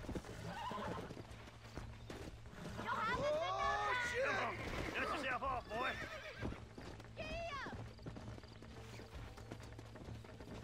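Repeated horse neighs and whinnies over rhythmic clip-clopping hooves in the video game Red Dead Redemption, fairly close, with a steady low hum underneath.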